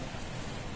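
Rain falls in Lisbon as a soft, even, continuous hiss of drops on surfaces, faint and unbroken throughout.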